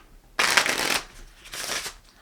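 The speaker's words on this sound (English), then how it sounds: "let me shuffle the cards" A brand new, stiff deck of playing cards is shuffled close up in two quick riffling bursts, the second softer, with no talking.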